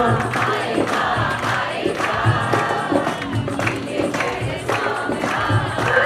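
A crowd of devotees clapping along in rhythm at a Shyam kirtan for an engagement anniversary celebration, steady handclaps under singing and music that fill the whole stretch.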